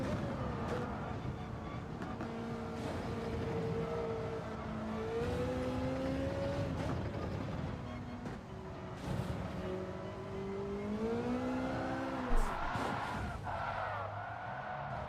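A race car engine in Gran Turismo 7 drones steadily for the whole stretch, pitch rising and falling through upshifts and slowing for corners, with a brief sharp bump near the end.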